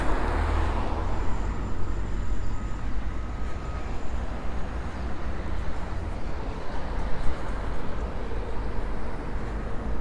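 A truck pulls out of a building site onto the road in Palmanova, Mallorca, its steady engine rumble blending with continuous nearby traffic noise, with no talk.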